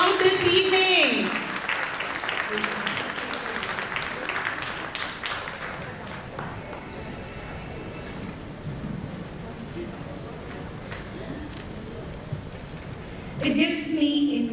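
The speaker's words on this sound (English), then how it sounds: "A big round of applause, ladies." An audience at an awards ceremony gives a long burst of applause, a dense steady patter of many clapping hands that fades gently, with speech briefly heard at the start and end.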